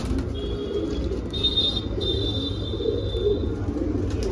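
Saharanpuri and Pakistani pigeons make soft calls from close by, a few faint tones over a steady low background rumble.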